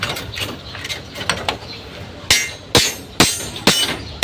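A pole section is hammered into place, first with faint clinking and tapping under background noise, then a run of sharp, loud metallic strikes at a steady pace.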